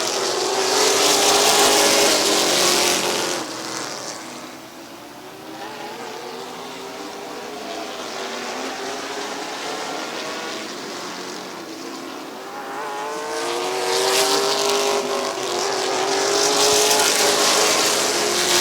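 Race cars at Midvale Speedway roar past in loud waves, with engine pitch rising and falling as the packs sweep by and fade, then swell again; no one speaks.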